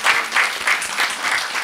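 Steady, dense applause from a live show audience fills the space, continuous and fairly loud with gentle swells, no speech over it.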